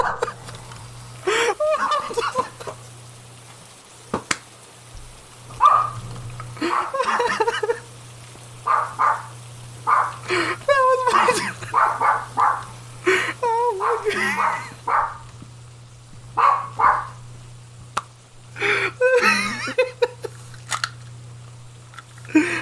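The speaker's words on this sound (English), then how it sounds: "Oh! That was my dog!" A pet dog barks in the room during a horror game session, with sharp repeated bursts scattered across the stretch and people talking loudly over and between them.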